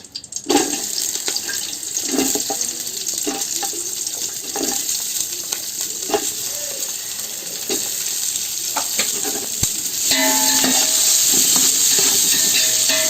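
Long-sliced onions fry in oil for chicken biryani, giving a steady sizzle with repeated scraping stirs. The frying grows louder and brighter toward the end.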